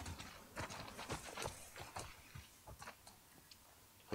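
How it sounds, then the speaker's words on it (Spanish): Horse hooves clip-clopping in The Last of Us Part II, a steady run of hollow knocks at a walking pace, fairly close and distinct, with no speech over them. "Mira, el caballo ahí."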